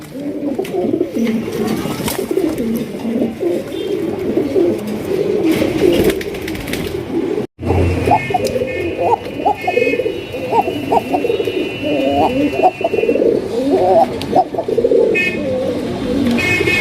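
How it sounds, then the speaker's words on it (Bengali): Arabian Cocka pigeons at a seller's stall coo over and over. The deep, throaty calls come in steady waves, with a brief sharp click partway through and faint higher chirps in the background. "এখানে দেখতে পাচ্ছেন একটা অ্যারাবিয়ান ককা কবুতর"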